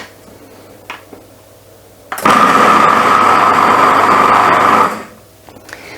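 A food processor blends seitan sausage dough, switching on with a sudden high whirring motor that runs loud and steady for about two and a half seconds before cutting off, with faint clicks of the lid and machine around it.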